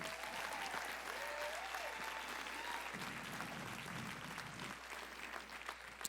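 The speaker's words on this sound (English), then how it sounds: "That deserves a round of applause." Sustained applause from an audience at a Champions for Change 2024 event honoring the event's workers, steady clapping at a moderate distance with a few voices audible over it.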